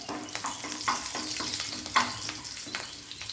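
Garlic fries in a hot pan, a steady soft sizzle with a few clinks and stirring scrapes throughout, close and fairly quiet.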